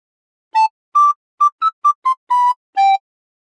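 A recorder plays a short phrase of We Wish You A Merry Christmas: eight clean, separate notes, some short and some held, in a steady melodic rhythm, played alone and close.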